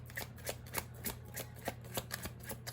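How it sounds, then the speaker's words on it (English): Tarot cards shuffled by hand in a steady run of crisp riffling bursts, close and quiet, with no talking. "I'm just going to get a bunch of cards out and I'm going to read them."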